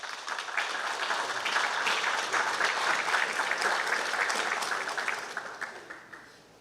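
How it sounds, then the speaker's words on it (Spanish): An audience at a disaster-reconstruction forum in Peru applauds a speaker invited to the stage, a steady burst of clapping from many hands that holds for several seconds and then thins out. "Aplauso para él."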